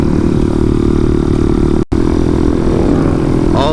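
A motorcycle engine runs loud and steady at high revs, with a brief cut-out near the middle before it roars back, ridden hard for wheelies.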